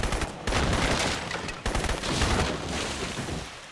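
Automatic weapon fire in Crysis Warhead, shot at a palm tree, roars in loud continuous bursts with two brief pauses, close and dense throughout.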